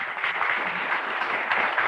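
A church congregation claps in a steady, dense patter of many hands, moderately close and unbroken, with no voices above it.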